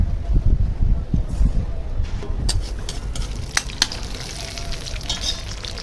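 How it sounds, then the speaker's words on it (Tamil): Mustard seeds tossed into hot oil in a kadai while tempering for a taro leaf curry, loud close crackle and sharp pops with utensil clatter, a voice faintly present. "இப்போ கடுகு போட்டுடலாம்."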